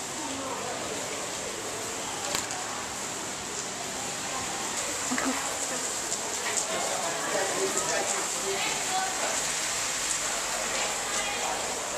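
Steady heavy rain hisses and patters across a flooded street in Italy, a dense continuous wash of water with occasional splashes and no clear voices.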